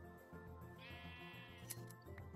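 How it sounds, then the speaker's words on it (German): Minecraft sheep bleating in a quiet game world, a drawn-out nasal bleat rising near the middle over a steady low background, with no talking. "So, die wilden Schafe, die lassen wir leben."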